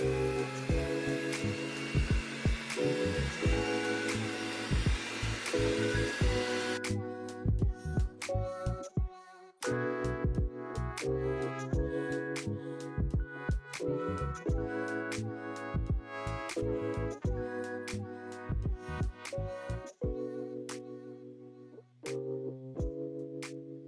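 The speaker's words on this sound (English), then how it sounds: "I have my hand mixer here. Start off slow" An electric hand mixer beats three eggs for cake batter, its motor whining steadily and close by, with the pitch shifting through the run as the speed changes.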